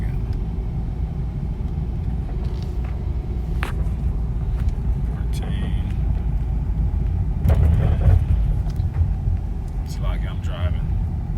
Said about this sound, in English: I'm driving